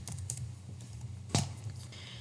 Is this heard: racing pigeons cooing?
no